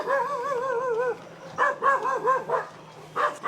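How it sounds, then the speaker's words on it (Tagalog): A pack of female dogs out on a group walk barks and yips in short, loud bursts, with a drawn-out whine or howl near the start, all close by. "ngayon ay dinala ko lahat ng babaeng aso ko, mapa-submissive at mapa-dominante man"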